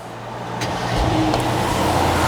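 A Mercedes car engine cranks and catches, its low rumble building from about half a second in and then holding a steady, loud idle close by, with no one talking.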